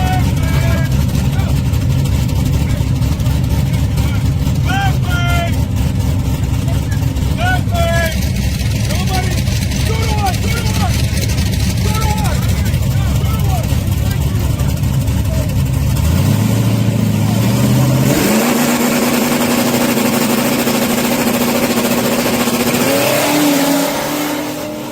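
A small tire junior drag racing car roars loudly through its pass, the engine revving hard and climbing through gears before the pitch drops and settles, with people talking over the din.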